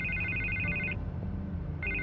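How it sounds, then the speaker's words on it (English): A telephone rings in Batman: The Telltale Series, a bright electronic double-tone ring that repeats after a short gap over a low ambient score. "I can't get the phone to stop ringing."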